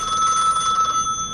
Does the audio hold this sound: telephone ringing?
yes